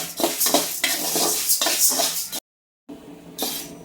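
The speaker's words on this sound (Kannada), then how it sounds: "ಇದನ್ನು ಕಮ್ಮಿ ಕಾವಲಿಟ್ಕೊಂಡೆ ನಾವು ಹುರ್ಕೋಬೇಕು, ಕೆಂಪುಗಾಗೋವರೆಗೂ" Urad dal roasts in a pan on low heat for puliyogare powder, with rhythmic scraping stirs and light clinks over a soft sizzle, broken by a brief gap of silence.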